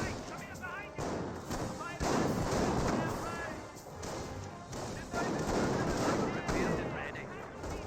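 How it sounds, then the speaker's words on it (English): Sniper shots and infantry small-arms fire crack repeatedly in the Company of Heroes strategy game, a dense run of sharp close reports and thuds that comes in bursts and stays loud throughout. "looks like the sniper now firing away as well"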